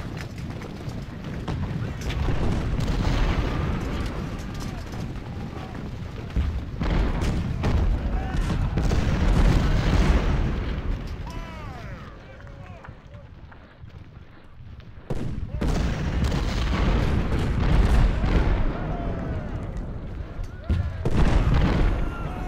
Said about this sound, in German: Einmal schön rein da mit dem Kanonenfeuer.